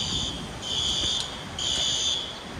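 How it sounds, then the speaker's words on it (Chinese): An indoor fire alarm sounds in repeated shrill electronic pulses, steady and fairly loud over a busy background hum of a brewery or restaurant in Beacon, New York. "火警，"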